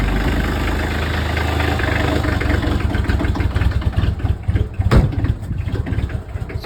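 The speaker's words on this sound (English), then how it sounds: "So this is the joys of starting a diesel engine in the wintertime." A diesel truck engine runs in cold winter weather after a glow-plug start, a loud close rough idle with uneven knocking pulses and a brief sharp clatter.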